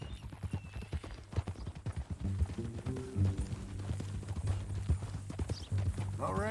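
Steady clip-clop of horse hooves trotting along in Red Dead Redemption 2, with background music and occasional voices mixed in underneath.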